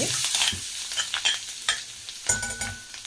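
Mandeli fish masala stirred and sautéed in a pan, with steady close sizzling broken by repeated scraping stir strokes and spatula clatter, no voices.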